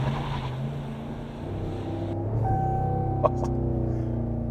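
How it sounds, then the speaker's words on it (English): A 2024 RAM 1500 pickup accelerating hard in reverse, its engine note climbing steadily and loud until it holds at the rev limiter with a bouncing, sustained drone. "Love that rev limiter there."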